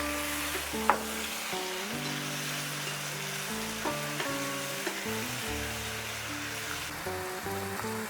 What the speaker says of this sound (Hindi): हम ये तीनों को साथ में डाल के फ्राई करते हैं।